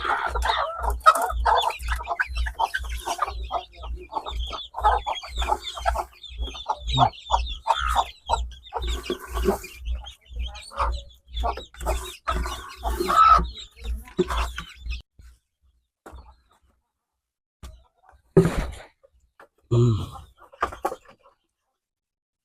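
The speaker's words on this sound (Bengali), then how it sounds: "মুরগিকে প্রাকৃতিক খাবার দিলাম, ঘাস।" Chickens clucking while being fed fresh grass, busy overlapping clucks over a steady low hum for about fifteen seconds, then a few sparser calls and noises after the hum stops.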